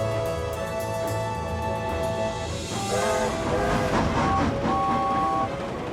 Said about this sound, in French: Une fois sur l'île, Connor libère un premier wagon à la gare des Coquillages